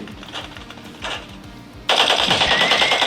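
Rapid automatic gunfire from a mobile shooter game played on a realme 12 Pro+ 5G phone, with faint shots early on followed by a loud, sustained burst of machine-gun fire.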